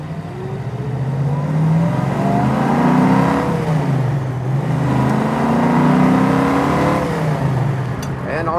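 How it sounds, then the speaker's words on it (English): A 1968 Mustang GT S-code 390 V8 with a 4-speed, its exhaust a smooth, moderate drone rising and falling with acceleration while driving, heard from inside the car; not a loud exhaust. "I can hear the exhaust. It's not a loud exhaust."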